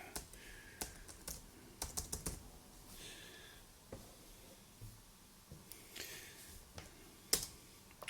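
Laptop keyboard keys being pressed during a check of a faulty secondhand laptop, heard as sparse, irregular close clicks and taps with quiet gaps between them and no voices.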